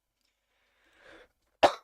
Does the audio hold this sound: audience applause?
no